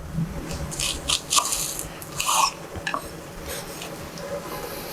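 A knife slices an onion lengthwise into wide strips on a cutting board, giving a few crisp, close crunching cuts spaced irregularly over a faint background hum.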